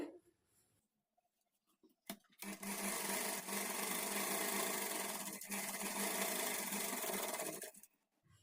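A sewing machine stitches along the edge of a blouse sleeve in one sustained run of fast, even whirring, close and loud, preceded by a few faint handling noises and a short start.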